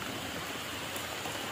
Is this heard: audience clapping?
no